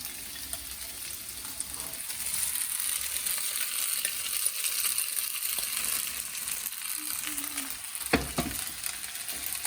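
Potatoes sizzle steadily in a hot pan for sabudana khichdi, a continuous frying hiss with occasional scraping stirs and one sharper knock near the end, no voices.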